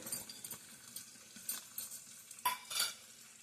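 Dry-frying Guntur or Byadgi chillies, a garlic bulb and curry leaves in an oil-free pan while making amla chutney: a quiet scrape of the spoon and a light sizzle, with faint clinks of utensil on pan.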